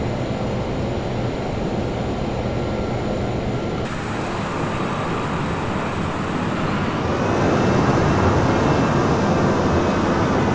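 Steady broadband cabin roar of a Learjet 35 in flight, a continuous loud rush with a faint high whine that shifts pitch partway through, no talk.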